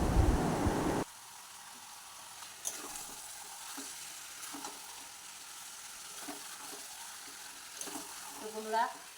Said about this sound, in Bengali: আমাদের রাঁধুনি কষাচ্ছে এখন মাংস